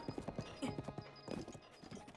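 Horse hooves clip-clopping in the video game Breath of the Wild, a quick, even run of soft hoofbeats heard at close range with no talk over them.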